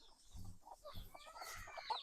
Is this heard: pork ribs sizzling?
no